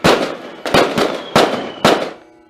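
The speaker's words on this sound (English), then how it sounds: "starts firing the crackers" Diwali firecrackers burst in four loud, sharp bangs spaced about half a second apart, each one crackling and fading before the next, with the last tailing off into a faint hum.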